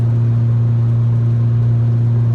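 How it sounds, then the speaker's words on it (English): A loud car cruises on the freeway, its engine and road noise forming a constant low drone heard from inside the cabin, steady and unbroken throughout. "My car's pretty loud on the freeway"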